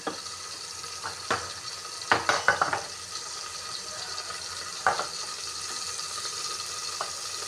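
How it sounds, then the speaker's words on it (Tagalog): Garlic and onion for sinigang sauté in a pan with a steady, soft sizzle, broken by a few clattering stirs and scrapes at close range, with no voices. "Lagyan natin ang ating bawang sibuyas."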